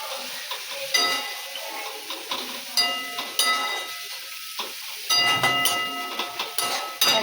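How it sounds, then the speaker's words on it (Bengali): Stone-ground spice paste with cumin and coriander powder being fried and stirred for mutton curry: a continuous hissing sizzle broken by repeated scraping and clinking stirs, close and moderately loud, with little talk. "আর এই যে এখন মশলাটাকে কষাচ্ছি।"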